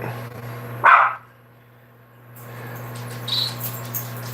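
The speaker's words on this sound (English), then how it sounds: "This is my dog." A dog gives a single loud, short bark close by, followed by quieter indoor room noise and faint rustling.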